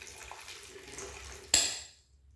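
Water pours briefly over a 2023 spring Jingmai Gulan sheng tea cake to rinse the leaves. A near, splashy gush starts suddenly after faint handling noises and cuts off within half a second.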